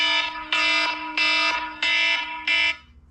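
A loud electronic alarm clock blares in five evenly spaced harsh buzzing bursts, each about half a second long with short gaps between, heard up close with no talking.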